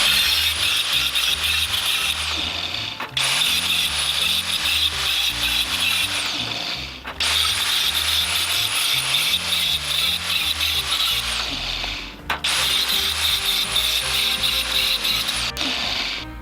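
Metal teeth being cut off a steel gear with a power tool: three long, loud, harsh grinding passes separated by brief pauses, with low mechanical rumbling underneath.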